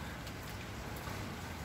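Heavy rain pours steadily during a storm in Athens, a continuous broadband hiss with no breaks, fairly quiet and heard alone without any talking.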